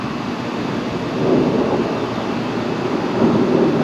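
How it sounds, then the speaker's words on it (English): A jet aircraft passes overhead as a broad, steady roar that swells slightly in loudness over a few seconds, heard at a distance with no other sounds over it. "a jet going over"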